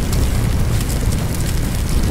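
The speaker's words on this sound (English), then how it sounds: "when you have explosions in a house with chemicals everywhere" A continuous deep, roaring rumble with crackling texture, an explosion in a burning house full of chemicals in the video game Firefighting Simulator - The Squad, loud and steady throughout with no voices.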